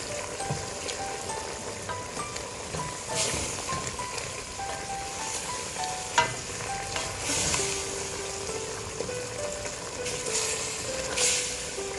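Fresh garlic sizzling in a hot pan with pork ribs for Korean BBQ, a steady crackling fry with occasional pops and light stirring scrapes, close and continuous without talk.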